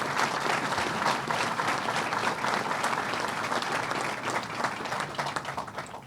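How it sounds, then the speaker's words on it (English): Sustained applause from a large audience at a Belmont Park announcement event, dense steady clapping filling the whole stretch at an even level, tapering only slightly toward the end. "So please give all of them a round of applause"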